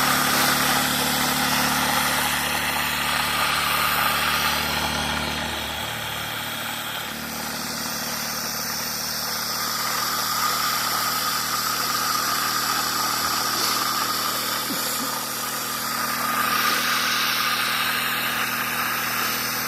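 A homemade prototype Tesla turbine fired by firewood runs steadily with a loud, continuous mechanical whir and hum, a broad rushing drone that dips briefly and then swells again as it vibrates hard.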